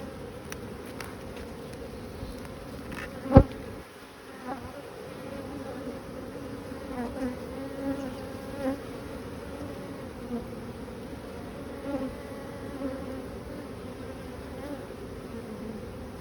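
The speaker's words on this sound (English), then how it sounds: "There aren't that many bees in here" Honey bees buzzing in an opened hive during mite treatment and maintenance, a steady low drone close by with one sharp knock partway through and no talk.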